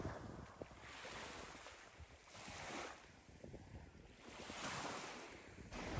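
Waves wash onto an empty beach in the early morning, a steady, soft rolling surf that swells and ebbs, with light wind buffeting the microphone.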